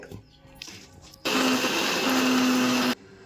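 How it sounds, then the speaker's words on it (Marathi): A mixer grinder grinding peanuts, green chillies and garlic, switched on after quieter kitchen noises to a loud, steady whirring roar that lasts under two seconds, then cuts off abruptly. "आता मिक्सरमध्ये वाटून घेणार शेंगदाणे हिरवी मिरची आणि लसूण"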